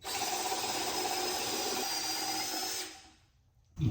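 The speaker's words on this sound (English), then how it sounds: "now I just need to do some countersinking" Power drill countersinking a hole in reclaimed wood for a bench, a steady loud high whine held for nearly three seconds before winding down, followed by a brief quiet gap and a new burst at the end.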